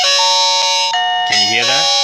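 Chime from an iCSee video doorbell after its button is pressed, a clear electronic ding-dong of two bright tonal notes, the second tone sweeping downward, close and loud over low room background.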